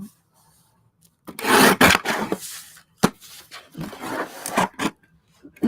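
Edges of a bookmark made from leftover material being shaved down, heard as brief close rasping and rubbing strokes in irregular bursts separated by quiet gaps.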